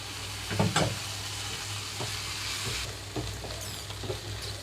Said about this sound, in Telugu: బంగాళదుంప అయితే చక్కగా ఫ్రై అయిపోయింది